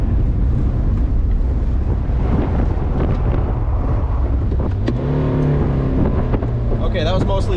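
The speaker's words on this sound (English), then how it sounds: "that was mostly the clutch burning" A Gambler 500 Mazda Miata's engine roars hard and continuously up close as the clutch slips and burns, with wind buffeting the microphone and a rising rev near the end.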